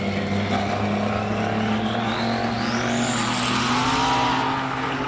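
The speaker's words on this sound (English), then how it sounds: "Sub Galtieri trying to keep 17 million horsepower down on the ground in a very, very interesting BMW turbo V8" A BMW turbo V8 race car accelerating hard at a hill climb, its engine note climbing steadily in pitch through the gears over a few seconds, loud and close with a rising whine and no talk.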